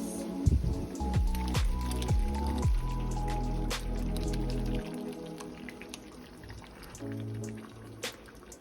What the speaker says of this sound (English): right on top of everything, we're gonna pour our sauce